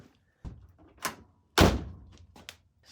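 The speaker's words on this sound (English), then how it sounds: "let me close the door." A Ford Anglia car door shuts with a loud, solid thunk in the middle, with a few quieter knocks and thuds before and after it, close by.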